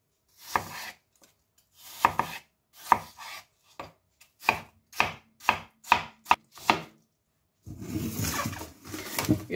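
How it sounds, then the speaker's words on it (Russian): A knife chops an apple into small cubes on a board, about a dozen crisp, close knocks in uneven bursts, followed by a softer rustling scrape of the pieces being gathered. "и нарезаю некрупным кубиком"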